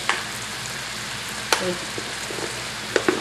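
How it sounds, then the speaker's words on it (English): Sweetbreads fry in a pan of oil and butter, giving a steady, moderately close sizzle with brief sharp pops and crackles scattered throughout and no talking. "I threw them in the pan with the oil and the butter"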